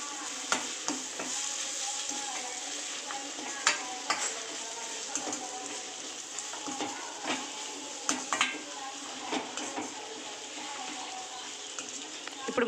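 Egg and cashew curry seasoned with chili powder is stirred in a frying pan, a continuous close sizzle broken by frequent spoon scrapes and light metallic clinks throughout.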